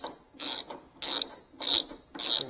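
A hand ratchet tightens a bolt on lawn mower lap bars in four distinct bursts of close, crisp clicking, separated by short pauses.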